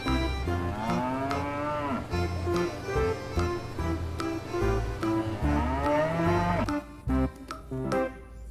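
A mother cow toy plays a loud, repeated electronic mooing sound over music, with drawn-out low moos running almost continuously before cutting off near the end.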